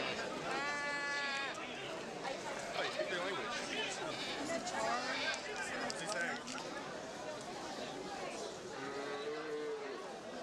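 Goats bleating at a busy goat market, several wavering cries rising and falling over a steady crowd murmur and distant chatter.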